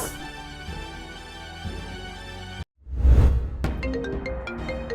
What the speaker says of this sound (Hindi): अब ये किसका फोन आ गया?